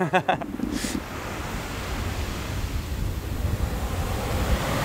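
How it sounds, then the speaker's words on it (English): Ocean waves breaking on a shore make a steady, full roar of surf with wind noise on the microphone, after a brief opening bump. "hopefully the audio's good here because I'm talking into the waves"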